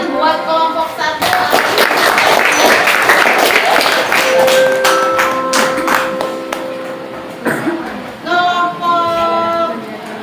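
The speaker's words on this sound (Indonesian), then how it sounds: "Kita kasih tepuk tangan buat kelompok 1." A junior high school class in Singkawang, Indonesia claps for a student group after its presentation, a bright burst of many hands in a classroom that fades into scattered taps, while voices and a sustained tone sound over and after it.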